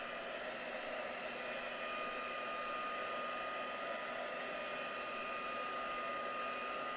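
A hair dryer drying a freshly made craft piece runs at a steady, quiet whir for the whole stretch, with no voices over it.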